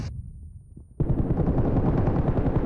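A grenade goes off in the mobile battle royale game PUBG Mobile: after a quiet stretch, a sudden loud, close blast opens a sustained heavy rumbling roar that fills the rest of the moment, with no voices over it.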